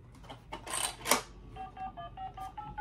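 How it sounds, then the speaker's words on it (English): A Minnie Mouse toy phone gives a quick run of bright electronic beeps like keypad tones, clear and close, after a few handling clicks, with no talking. "I got her this Minnie Mouse phone."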